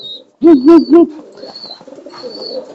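Newly paired pigeons coo in courtship, three loud, close, throaty coos in quick succession, then softer murmuring and faint chirps.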